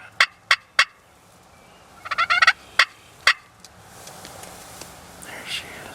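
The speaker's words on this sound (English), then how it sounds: "He's gobbling again." A wild turkey gobbles in an outdoor Wisconsin hunting setting: several sharp, rattling gobbles repeat at intervals, one rapid burst in the middle, fairly close and clear over quiet ambient background, with faint whispering nearby.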